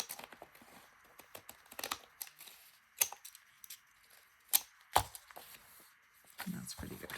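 Scissors cut paper for a handmade envelope in short, close snips and rustles, with sharp crisp clicks between quieter pauses and paper handling near the end.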